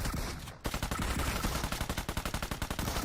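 Rapid automatic gunfire in the PUBG Mobile shooter game, a dense run of loud, close shots in quick succession after a brief pause, with no talking.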